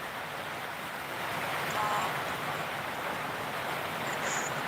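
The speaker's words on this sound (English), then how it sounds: "It's also raining really hard." Heavy rain falls on a Sunday morning in New Zealand. It is a dense, unbroken hiss that swells slightly partway through, with no talking over it.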